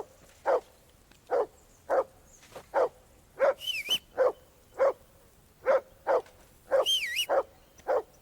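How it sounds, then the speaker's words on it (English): A dog barks repeatedly in Kingdom Come: Deliverance II, loud evenly spaced single barks with a brief flurry of rapid yaps, and a high whistling tone rising over it twice. "That barking was a pain in the ass."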